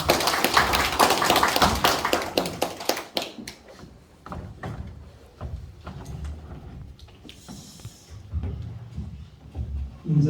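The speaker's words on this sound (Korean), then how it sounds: "여러분 큰 박수 부탁드리겠습니다." Clapping from an audience at a book launch ceremony, fairly loud and dense at first, then thinning after about three seconds into scattered separate claps and small shuffling noises.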